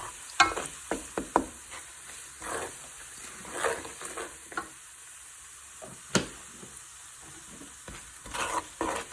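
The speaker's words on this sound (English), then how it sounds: "Cook it down with the tomato puree." Tomato puree and all-purpose seasoning cook down in a pot, with faint sizzling under scattered spoon stirs and scraping clinks at close range.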